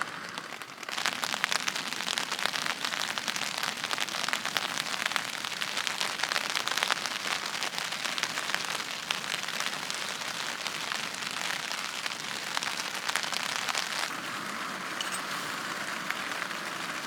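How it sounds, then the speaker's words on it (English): Steady, dense rain patters on a tent high in the Uinta Mountains at about 10,800 feet, a continuous close hiss of drops that holds unbroken for the whole stretch with no voices. "This is the most steady I've seen the rain come down."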